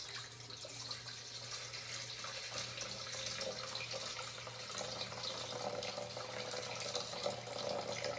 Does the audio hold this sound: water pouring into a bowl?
yes